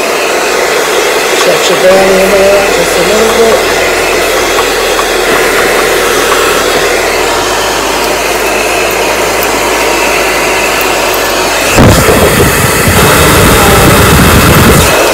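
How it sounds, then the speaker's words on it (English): A handheld blow dryer runs loudly and steadily throughout while hair is stretched out during a wash-and-go styling, with someone talking over the constant whooshing roar and a brief change in airflow near the end. "turn the blow dryer on"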